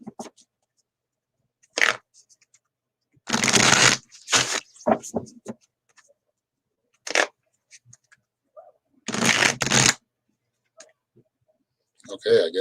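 Irregular bursts of card shuffling, short crisp riffles and bridging flutters separated by silences, recorded up close.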